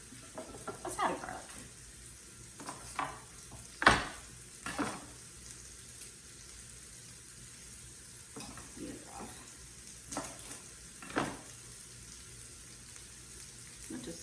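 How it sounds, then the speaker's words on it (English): Vegetables and garlic frying in a pan for a leftovers omelette, a quiet steady sizzle with a few louder clatters of stirring at intervals, no talking. "while our vegetables are cooking"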